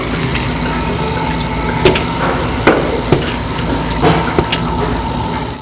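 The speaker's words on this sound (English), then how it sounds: "Take a moment to listen to an actual attachment of the IQ Milking Unit." An IQ Milking Unit is attached in a milking parlor: steady machinery hum and hiss throughout, with several soft knocks and clicks scattered through it, no voices.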